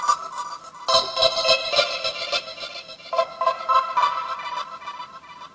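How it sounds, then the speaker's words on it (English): A synth melody plays in the background of an Afro beat track built in FL Studio. Bright, plucky phrases come in short bursts with brief gaps between them, at a moderate level with nothing else underneath. "using the same synth, create a second melody or sound that will be in the background in the overall song"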